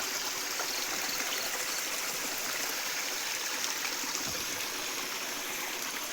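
Mountain stream water flows on a hillside trail to a farm, a steady, full rushing and trickling wash close by, constant throughout with no voices.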